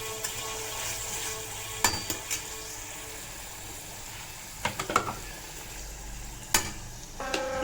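Whole bay leaf, cinnamon and cloves are stirred in a hot pan for chole, with a soft sizzle beneath scattered scraping clicks of the spoon against the metal. No one speaks.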